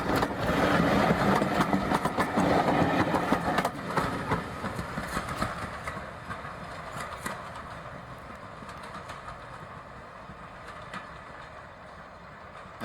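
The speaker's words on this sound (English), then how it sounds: "This train is approaching from Weybourne and makes its way to Holt." A train on the M&GNJ railway near Holt approaches from Weybourne. Its engine and wheels rumble steadily with faint clicks, loud at the start and gradually fading as it moves away, and no one speaks.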